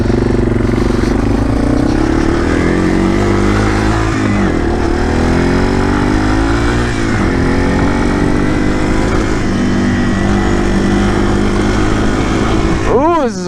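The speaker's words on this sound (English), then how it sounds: "This is a fun bike for these trails." A Yamaha TW200 motorcycle rides along a trail, its single-cylinder engine droning close and loud throughout, with pitch rising and falling as the rider shifts and throttles.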